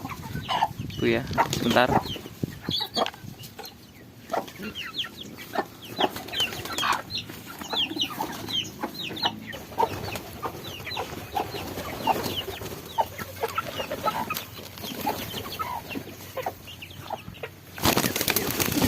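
Chickens clucking and flapping close by while homing pigeons are caught and handled, with short bursts of wing noise and people speaking briefly over the birds.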